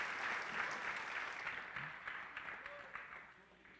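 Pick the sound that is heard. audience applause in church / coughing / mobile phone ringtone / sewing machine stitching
audience applause in church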